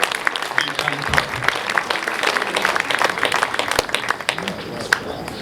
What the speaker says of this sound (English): Can we give them a very big hand